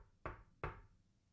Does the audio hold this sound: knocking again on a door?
yes